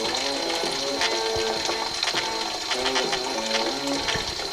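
Fuel is pumped through the fuel lines of a 1996 Ford F250 truck that has sat for four years, making a loud, steady pump whir and liquid gush with a mechanical ticking throughout.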